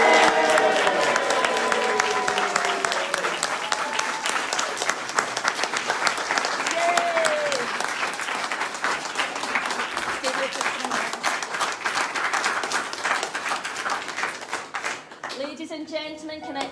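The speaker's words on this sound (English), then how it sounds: "please join me in a great big Scottish cheer, Scottish English cheer" Wedding guests at a ceremony in Airth Castle, Scotland, cheer and applaud loudly and continuously for the newlyweds, a dense wash of clapping with scattered whoops that carries on for several seconds before a voice breaks in at the end.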